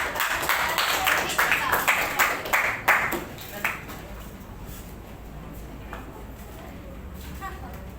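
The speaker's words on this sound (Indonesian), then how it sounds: "Tepuk tangan dulu untuk kelompok 4." A classroom group claps for group 4 before its presentation. A dense burst of close clapping lasts about three seconds, then dies away into quieter room sound with voices.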